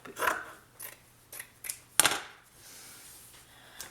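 Scissors snipping through fabric for covering a binder, several separate crisp cuts in an uneven rhythm with one sharp louder snip, close up, with no talking.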